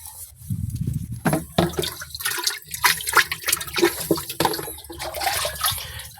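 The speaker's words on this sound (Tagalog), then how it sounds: "pupunuin natin ng tubig dito sa 16 liters na sprayer" Water gushes and splashes in an irregular, turbulent stream as it fills a 16-liter sprayer tank, close and fairly loud with no talk.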